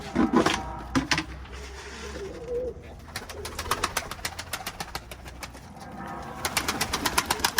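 Pigeons cooing softly and steadily in a loft as they are gathered and fed, with wingbeat flutters and scattered clattering of feed or wood, fairly close.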